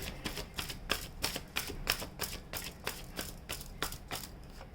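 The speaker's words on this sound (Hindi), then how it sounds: "कुछ और कार्ड भी निकाल लेती हूँ मैं।" Tarot cards are drawn one after another from a deck, giving a steady run of short crisp slaps and flicks, roughly two per second, close and moderately loud with no talking.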